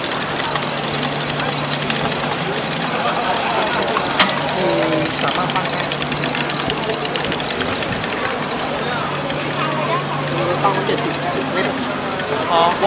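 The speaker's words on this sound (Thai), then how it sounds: "นี่คือนับเม็ด เครื่องนับเม็ด" A pill counting machine runs with a steady mechanical whir and rapid rattling clicks, continuous and fairly loud, while people talk nearby.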